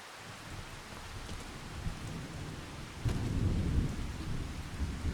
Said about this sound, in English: it's thundering as well